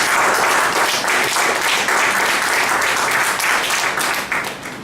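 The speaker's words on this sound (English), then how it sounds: "Let's give the MC a big round of applause." Sustained applause from an audience at a Toastmasters-style club meeting, honoring the master of ceremonies; dense, steady clapping from many hands fills the room at close range, then tapers slightly at the end.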